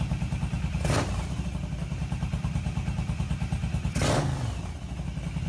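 Yamaha V-Star 1100 motorcycle with a pod air filter kit idling, a close, steady, lumpy V-twin throb with slightly uneven exhaust pulses, broken by two short bursts of clattering noise.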